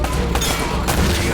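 Dense, continuous gunfire from the video game Uncharted: Drake's Fortune crackles loudly and without pause, a sustained volley of shots close up.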